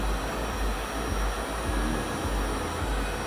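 A heat gun blows hot air onto a DIY RAM water block, producing a steady, close, loud rushing roar with a low rumble and no pauses.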